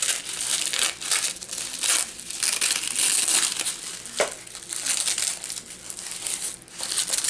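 Wrapping paper crinkles and crackles continuously as a happy mail parcel is unwrapped, close and fairly loud, with a sharper crunch partway through and no talking.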